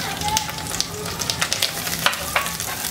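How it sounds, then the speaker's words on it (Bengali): Mushrooms and red chillies frying in a pan with garlic over high heat, a steady close sizzle with light crackles and occasional stirring clicks, no voices. "দিয়ে একটু ভেজে নেব মাশরুমটা একটু সিদ্ধ হওয়া পর্যন্ত"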